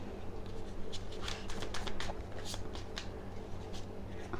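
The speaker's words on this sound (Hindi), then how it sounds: "आपके सामने कार्ड शफल कर रही हूँ" Tarot cards are shuffled in a quiet room: soft, papery riffling bursts come repeatedly over a low background hum, with no one speaking.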